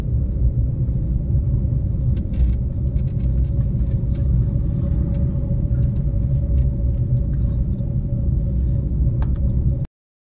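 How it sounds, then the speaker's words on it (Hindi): A car in second gear during a driving lesson gives a steady low engine rumble and road noise heard from inside the cabin, continuous and fairly loud for about ten seconds before cutting off abruptly. "चलिए क्लच दबाइए, कौन सा गियर, सेकंड गियर, चलो छोड़ो क्लच"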